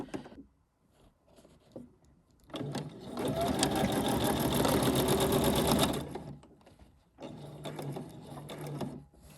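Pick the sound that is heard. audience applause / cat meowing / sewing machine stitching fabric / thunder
sewing machine stitching fabric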